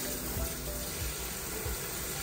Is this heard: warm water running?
yes